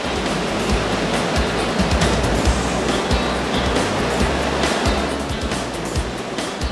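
Ocean surf breaks and splashes at a beach in a constant loud, broadband wash of water, with no clear gaps between waves and no voices.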